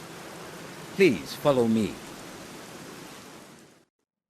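Rain falls outdoors as a steady, even hiss that stops abruptly near the end, with someone speaking briefly over it.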